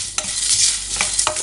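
Sambar spices roasting in a pan are stirred with scraping strokes over a steady dry sizzle, close and loud, with a few sharper scrapes near the end and no voices.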